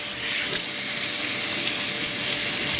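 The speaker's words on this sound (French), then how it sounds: "Maintenant cette endive, je vais la rincer, je vais la sécher." An endive rinsed under a running kitchen tap, a steady close hiss of water splashing over the leaves without pause and with no speech.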